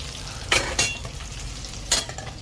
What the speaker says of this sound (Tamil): மீன் வறுவல் நடந்துக்கிட்டு இருக்கு